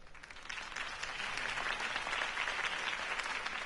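Steady applause from a crowd, a broad wash of clapping that builds slightly and holds, heard from some distance.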